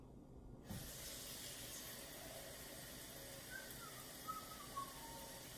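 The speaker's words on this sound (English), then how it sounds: "Very exciting as I'm pouring water into my container here." A liter of water poured into a container for brewing homemade kombucha, a steady soft hiss of flowing liquid that runs nearly the whole time after a brief silent start, close and fairly faint.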